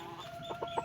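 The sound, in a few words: hen clucking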